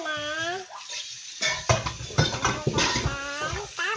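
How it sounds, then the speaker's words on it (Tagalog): Pork being washed under running water in a home kitchen, a steady splashing stream with clattering bits of handling, while a person talks over it throughout. "Hugasan ko muna."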